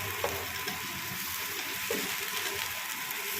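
Okra fries in spiced oil in a pan, giving a soft, continuous sizzle with faint stirring scrapes. The sound is low in level and has no talk over it.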